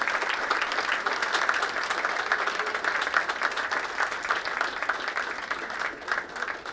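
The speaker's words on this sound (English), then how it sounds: "another round of applause for the Opus Choir from Martin County High School" Sustained, steady applause from a large audience for a high school choir, the Opus Choir of Martin County High School, at a 9/11 memorial service in Palm City, Florida.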